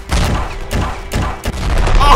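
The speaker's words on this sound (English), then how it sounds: "Oh, we got grenaded." A grenade blast in Ravenfield lands amid a loud, chaotic spread of booms and gunfire, several heavy hits rolling one after another with a muffled voice underneath.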